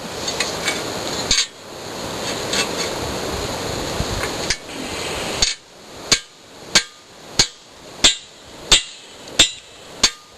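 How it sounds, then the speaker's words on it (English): A hammer strikes metal about eight times in a steady, evenly spaced rhythm, each blow sharp and ringing, after several seconds of rough scraping noise. "I literally just took a dang hammer, beat the hell out of it."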